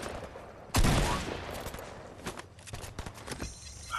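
A sharp, loud shot from a pistol in Fortnite, followed by a short run of quieter clicks and thumps like footsteps and game effects, with no talk.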